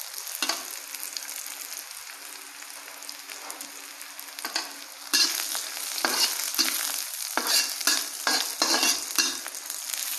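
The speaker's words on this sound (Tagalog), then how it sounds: "Halo natin tong luya, konti." Ginger is stirred into food frying in a pan, a steady sizzle with repeated scraping strokes of a utensil, close and clear, with no voices.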